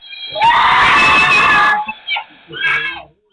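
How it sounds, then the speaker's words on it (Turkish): Children let out a loud, shrill scream of fear at a lizard, held for about a second, followed by a few shorter, fainter cries. "Kertenkeleden korkan çocukların çığlığıyla anne baba uyandı."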